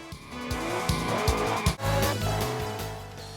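A Ferrari Testarossa drives in the OutRun 2 racing game on Xbox, its loud engine roaring close with rising and falling revs while the tires squeal and skid through a corner.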